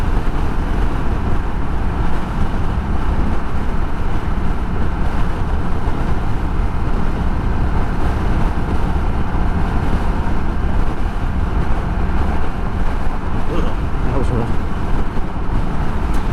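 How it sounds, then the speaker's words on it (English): Steady, loud wind roar buffets the microphone while riding a Honda Rebel 1100 motorcycle on the highway into a strong headwind, a continuous broadband rush with road and engine rumble underneath and no break throughout. "Oh, it's quite windy over here. I'm headed into about a 20-mile-an-hour headwind here."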